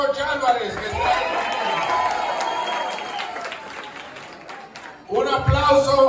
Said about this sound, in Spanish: Un aplauso a la asambleísta George Álvarez,